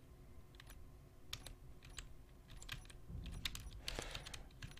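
Fast, uneven clicking of a computer keyboard during a Space Engineers gaming session, close and fairly quiet, with denser bursts of keystrokes toward the end.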